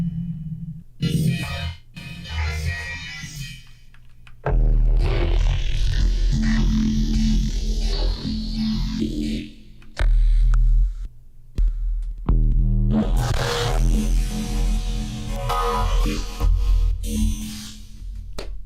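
Synthesizer patch layering dense, distorted, effected textures: bursts of thick low drones and bright noisy washes that swell, cut out and return over about nineteen seconds, loud and alone.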